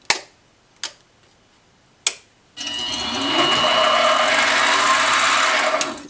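A metal lathe with its leadscrew set up spins up after three sharp ticks, settling into a steady, fairly loud whirring hum with a faint rhythmic chatter that runs on alone.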